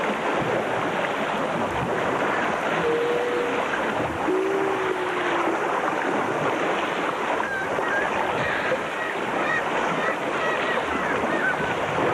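Walruses make strange, musical display sounds: a few drawn-out tonal whistles over a constant wash of water and wind.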